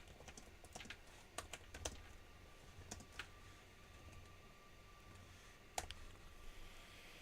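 Fingers type and click on a computer keyboard, faint scattered keystrokes and a few sharper clicks in irregular bursts against a quiet room hiss.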